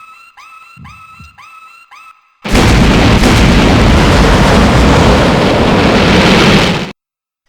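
A bomb goes off in the PS1 video game Suzuki Bakuhatsu: after a few seconds of repeating electronic beeps, a single loud, sustained explosion roars for about four seconds and then cuts off abruptly.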